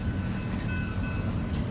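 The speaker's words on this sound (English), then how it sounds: "The train is right around the corner." A Norfolk Southern freight train passing at McCord Park, a heavy continuous rumble of rolling cars with faint metallic squeal tones over the top, steady and close, without speech.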